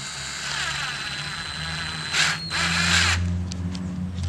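A small cordless drill whirs steadily, with two short bursts of higher-speed spinning near the middle.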